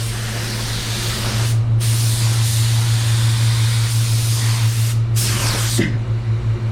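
A spray gun lays white water-based paint onto a black car bumper for a two-tone finish. The hiss is loud and steady over a low compressor hum, with short pauses between passes.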